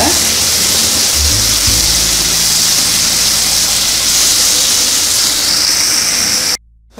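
Tomatoes with a little salt sauté in a hot pan, giving a loud continuous sizzling hiss close up that runs steadily and cuts off abruptly at the end.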